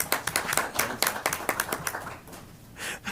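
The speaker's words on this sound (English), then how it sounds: "We can clap" A small group at a school board meeting claps to congratulate the new board chair, a brief run of distinct, irregular hand claps that thins out and stops, followed by a voice.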